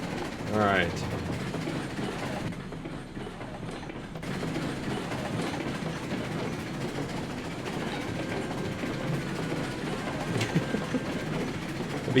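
A huge freight train in the Railroads Online video game rolls steadily with a low rumble and faint clickety-clack, plus a brief whistle-like squeal near the start. Someone talks over it.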